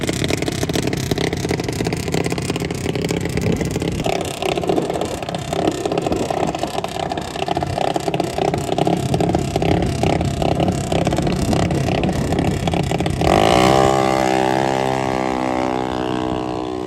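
A car on a drag strip runs on its engine alone with no nitrous, droning loudly and continuously before the revs climb sharply near the end as it accelerates hard.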